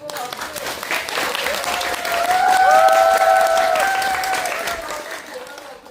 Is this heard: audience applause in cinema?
yes